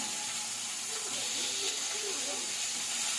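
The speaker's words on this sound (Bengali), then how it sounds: "আগে আলুটা ভেজে নিচ্ছি" Potatoes frying in a pan in a home kitchen, a steady bright sizzle and hiss holding evenly throughout, with faint low murmurs of voices in the background.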